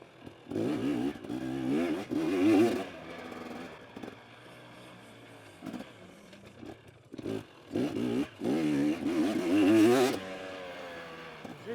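A motocross motorcycle engine revs and drops as it is ridden through a corner on a practice track, rising and falling bursts of throttle with quieter idle gaps, moderately close.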